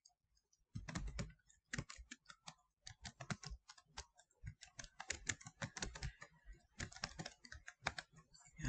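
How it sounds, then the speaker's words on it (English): Keys on a computer keyboard are typed in quick, irregular bursts of close, crisp clicks with brief pauses, fairly faint and with no talk over them. "So you start out tab, open, and start to type."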